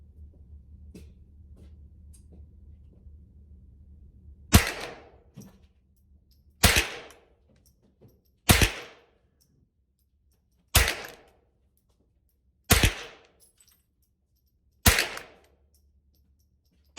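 A Thompson Center T/CR22 rifle fires six sharp, separate shots at roughly two-second intervals, each crack loud and close over a quiet background.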